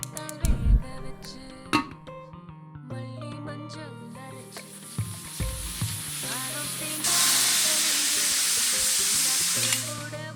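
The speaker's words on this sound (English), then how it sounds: "putting that hot oil on top of the curry to make it sizzle and bubble" Hot oil poured over curry in the cooking game Venba gives a steady bubbling sizzle that swells into a loud, dense hiss near the end, with clinking stirring sounds earlier.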